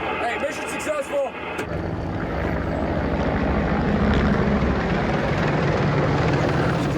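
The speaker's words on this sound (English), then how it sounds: "As you can see, the attack helicopter's turned up." An attack helicopter over a battlefield in Afghanistan, heard as a steady, loud rotor roar that swells and holds, with brief voices near the start.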